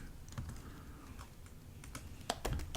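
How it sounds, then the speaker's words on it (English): Quiet clicking of keys on a computer keyboard while entering text into an Excel spreadsheet, a few soft taps and clusters of keystrokes close by, with no voices. "So I'm going to just type percentage change S&P"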